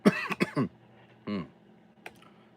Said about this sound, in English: I'll either stop coughing or I'll die.